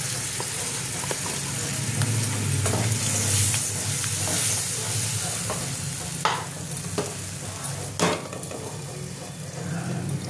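Whole prawns sizzle and crackle in hot oil in a pan for a Bengali prawn and lentil cake curry, with scraping stirs and occasional clinks of a utensil against the pan, close and continuous.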